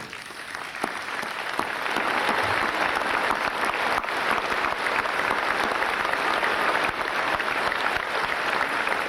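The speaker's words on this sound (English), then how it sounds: "Will all of those mentioned please rise, and we'll give them one more applause" Steady, dense applause from an indoor audience at a university commencement ceremony, loud and sustained throughout without a break.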